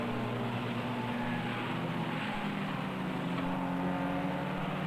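A race car in the 2021 BARC season, the number 40 Sapra and Branson entry, rolling into the pits with a steady low engine drone and harmonic hum throughout, fairly close and continuous with no talk.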